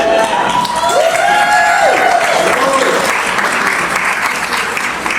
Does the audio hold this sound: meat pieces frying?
no